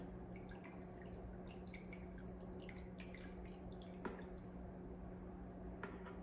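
Lye water solution is strained through a sieve for soap making, giving faint, irregular drips and small trickles over a quiet, constant low hum, with an occasional sharper drop standing out.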